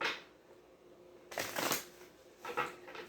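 Tarot cards being shuffled in two quick riffling bursts, close by, separated by a short quiet pause.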